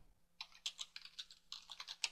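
Keys on a computer keyboard are typed in a quick, faint burst of irregular clicks, close by and with no speech.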